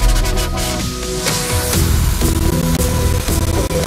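A synth build-up carries an electronic track toward its melody, with layered tones and steady rhythmic pulses running loud and continuous, free of any talking.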